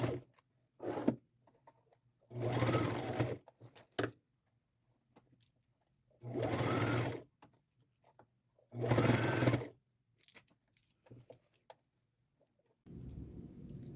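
Sewing machine straight-stitching sleeves onto a jacket in short, separate bursts of close whirring with quiet gaps between them and light handling noises.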